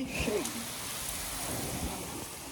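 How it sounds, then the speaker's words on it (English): Heavy rain pours as a dense, steady hiss with low drumming underneath, continuous and close throughout. A brief faint voice-like sound appears near the start. "Pretty crazy, this rain."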